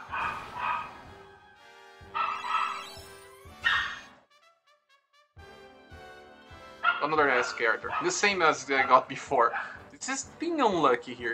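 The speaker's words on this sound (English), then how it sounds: "Sorry about the dog noise, it's my neighbor" A neighbor's dog barks and yips in the background, a few short bursts heard faintly beneath someone talking, with the barking growing busier toward the end.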